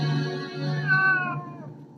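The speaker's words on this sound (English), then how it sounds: "Stop looking at me, you fucking cat!" A cat gives one drawn-out meow, close and fairly loud, rising then trailing off over about two seconds, with no talking.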